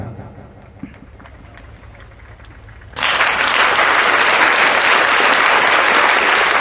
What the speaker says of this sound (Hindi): इसी की तो तालियां बज रही हैं